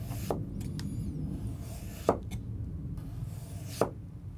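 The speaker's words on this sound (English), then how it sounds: "This is how easy it is to go through the potato." A Hatsukokoro STRIX steel gyuto kitchen knife, thin behind the edge, slices through a raw potato, giving three faint, soft cuts against a board over quiet background hiss.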